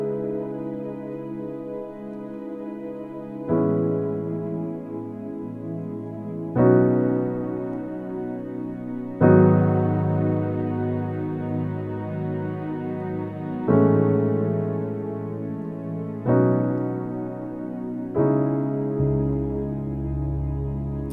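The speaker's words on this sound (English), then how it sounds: "it's kind of just combining a piano and a pad together" Piano chords on a Nord Stage 3 struck every few seconds over a soft, sustained synth string pad that holds and swells between them; no voices.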